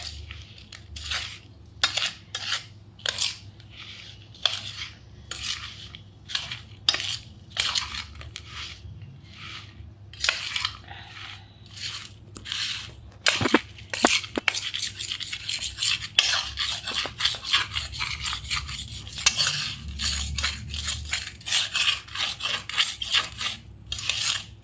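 A spoon clatters and scrapes against a pan while cooled lemon pickle is mixed, with quick irregular metallic taps and scraping strokes that grow denser and busier toward the end, close up with no talking.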